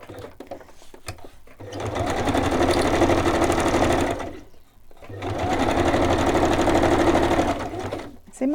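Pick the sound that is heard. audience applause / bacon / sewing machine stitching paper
sewing machine stitching paper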